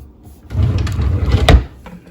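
A deep drawer in a small craft room slides open with a rumbling scrape lasting about a second, ending in a sharper clack, close by with no talking.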